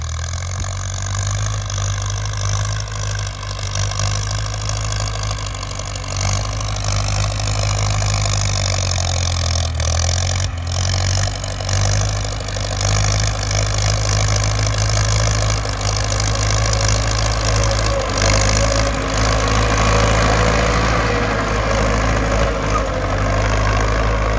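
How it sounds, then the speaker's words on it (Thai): A Ford tractor engine runs steadily throughout while plowing a field, a continuous low rumbling drone with no break and no voices. "ถ่ายรถไถฟอร์ดเท่านี้"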